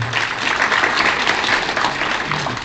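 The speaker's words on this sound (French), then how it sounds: "je voudrais vous demander un tonnerre d'applaudissements pour la grande dame Hadiatou Djinkang Diallo" Conference audience at a federal party gathering in Paris breaks into thunderous applause for an honoured woman, a dense, steady wash of many hands clapping close and loud throughout.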